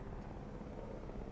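Rescue helicopter flying in the video game Jurassic World Evolution: a steady, close rotor and engine drone that holds at an even level for the whole short stretch.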